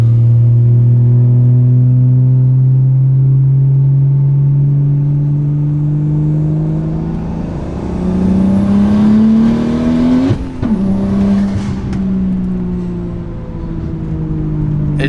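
A BMW (E60 or E70 era) engine makes a full-throttle pull on an unfinished tune, a loud, close, rising drone that climbs steadily in pitch, breaks briefly at a shift, and then builds again.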